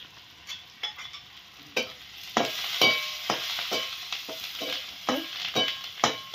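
Curry leaves spit and crackle as they hit hot oil for tempering, with sharp close pops and sputters repeating irregularly over a steady sizzle.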